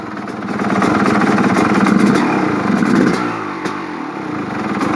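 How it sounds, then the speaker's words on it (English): A 1989 Suzuki RM250 two-stroke motorcycle engine runs loud and close with a buzzing, uneven idle, then the sound drops away as the engine dies. "that was a first start with 2-stroke oil inside of the engine"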